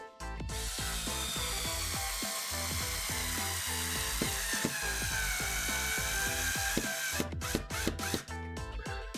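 A small drill bores holes into a plastic window profile while a spring-type blind system is fitted, with a loud, steady high whine broken by quick repeated ratcheting clicks and a brief stop near the end.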